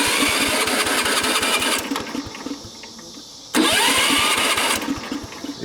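The engine of a Bolens Husky 600 garden tractor cranks with a rapid, rhythmic chugging, is loud and close, and sags into a softer stretch. It then surges back to a loud, steady run, with no voices.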